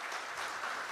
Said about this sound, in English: Can we have a huge round of applause for all the teams?